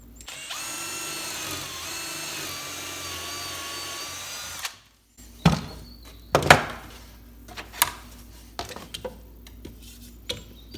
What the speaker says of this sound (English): we're going to try and drill a hole